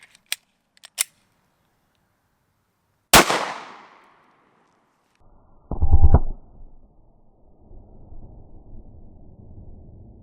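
A single sharp 9mm gunshot of 124 grain Federal Premium HST fired into ballistic gel cracks loudly and decays over about a second, followed later by a thumping impact burst and low rumble, with a few small clicks beforehand.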